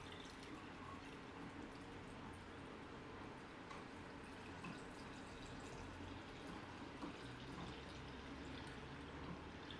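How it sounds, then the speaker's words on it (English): Water is poured steadily over coffee grounds in a filter for cold brew, giving a continuous soft hiss and trickle throughout with no speech. "Then we're gonna just pour our water"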